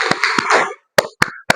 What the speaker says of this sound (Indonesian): Kita harus semuanya tepuk tangan biar tetap semangat lagi ya.